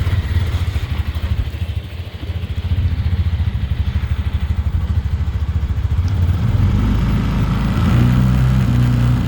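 A Bashan 250 cargo ATV engine chugs steadily in first gear at about 4 km/h nearby, a rapid rhythmic putter that grows slightly louder and rougher toward the end.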